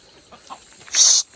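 A single short burst of clucking from a chicken, fairly close, preceded by quiet faint rustling.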